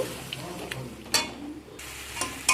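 Ground spices with chili powder sautéing in a pan with a little water, soft intermittent sizzles and scraping stirs with short bursts of hiss, fairly quiet and close.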